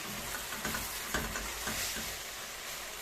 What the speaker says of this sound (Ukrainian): Цибулька протушилася з м'ясом.